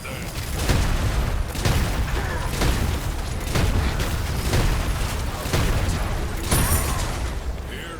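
Repeated bomb blasts in the Overprime game on the Scud Jungle map, a series of heavy booming bursts roughly every second over a dense, continuous roar of battle noise.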